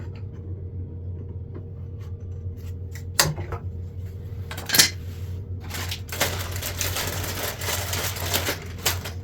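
Plastic pipe being cut for bathroom plumbing, with scattered small clicks and snaps, a couple of sharper cracks, then a denser rasping crunch toward the end over a low steady hum, heard close and without talk.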